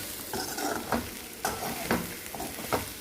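Ivy gourd (dondakaya) frying in a pan as chili powder is stirred through, with a steady close sizzle broken by several sharp scraping spoon strokes at an uneven rhythm.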